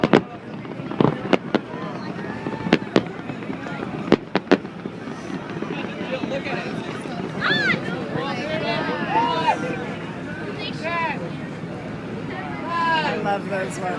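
New Year's Eve fireworks burst over San Francisco Bay, with a few sharp booms early on and then crackling, whistling shells, heard from a distance through wind and the chatter of an excited crowd.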